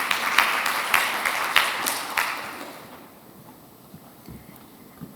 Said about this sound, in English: let's come together to give a big round of applause for Dr.